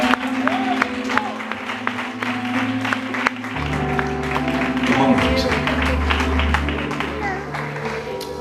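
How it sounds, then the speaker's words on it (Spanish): A church congregation applauds steadily, a continuous patter of many hands clapping that fills the room, while sustained musical tones and a low drone play underneath throughout. "Ese aplauso para Jesús."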